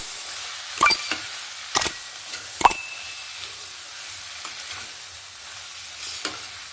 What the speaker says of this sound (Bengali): এবার আমি কেটে রাখা পেঁয়াজ কলিগুলো দিয়ে দেব, দিয়ে ভালো করে মিক্স করে দেব